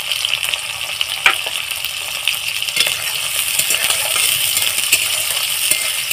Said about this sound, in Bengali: তেলটা আমার গরম ছিল, তার মধ্যে আমি পেঁয়াজ দিয়ে দিলাম। পেঁয়াজের পরে আমি কাঁচা লঙ্কা দিয়ে দিলাম।